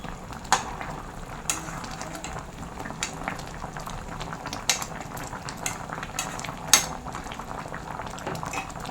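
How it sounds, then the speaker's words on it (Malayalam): A spoon stirs a thick mixture in a pan, with steady bubbling and sizzling and occasional sharp scrapes and taps against the pan. "ഒടിഞ്ഞു പോവാതെ മിക്സ് ചെയ്യണം കേട്ടോ."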